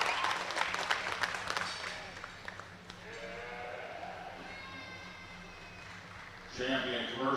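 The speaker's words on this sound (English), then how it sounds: "Let's give that young lady a nice round of applause." Audience applause at a livestock stock show after a champion heifer is chosen, a short burst of clapping mixed with nearby sheep bleats and an announcer talking over the barn noise.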